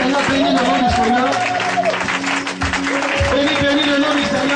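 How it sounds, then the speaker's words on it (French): A church congregation at a Sunday service applauding and cheering, sustained clapping and crowd noise with a voice calling out over it, loud and continuous. "Vas-y, acclame le Seigneur, bénis le nom du Seigneur."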